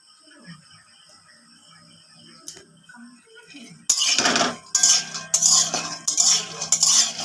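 Peanuts dry-roasting in an empty wok with no oil are stirred with a metal spatula: a few faint clinks at first, then loud, continuous scraping and rattling of the nuts against the pan.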